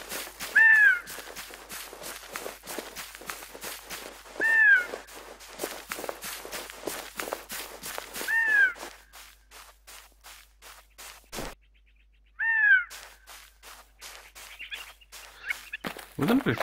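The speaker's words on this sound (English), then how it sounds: "And that's the most annoying bird sound I ever heard." Crow cawing in the video game Infestation: The New Z, several harsh caws spaced a few seconds apart over steady footsteps crunching along, fairly clear and close.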